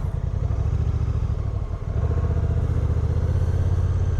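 A Honda DCT automatic motorcycle rolls away at low speed, its engine a steady close chugging drone with a brief dip before settling into an even throb.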